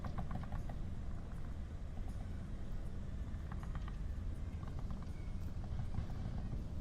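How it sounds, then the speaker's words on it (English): Footsteps from the VR shooter game Onward, rapid rhythmic treads in short clustered runs over a dense rumbling background of game ambience, fairly faint and mid-distance. "STB house can hear Arsenic's footsteps."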